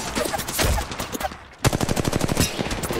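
Gunfire in Apex Legends Mobile: a sputter of shots, then a sharp onset of rapid automatic fire in a fast even rattle, loud and close.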